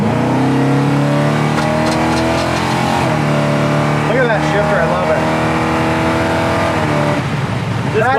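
A 1966 Chevrolet Impala SS accelerating hard, its engine note climbing then dropping as the transmission shifts, loud and close, with someone talking over the engine.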